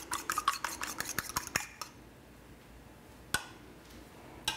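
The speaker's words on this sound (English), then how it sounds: "we're just going to take a fork, and we can just whisk this" A fork whisks raw egg in a bowl, giving a quick run of light metallic clicks and taps against the dish. A short silence follows, then one or two isolated clinks.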